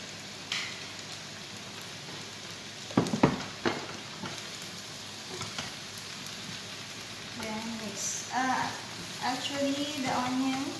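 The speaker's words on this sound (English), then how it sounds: "a little bit of sugar to the onions I'm sauteing there" Sliced white onions with a little sugar sautéing in a pan, a faint soft sizzle with scattered stirring clatter and a louder burst of spoon scrapes, while a voice talks in the later part.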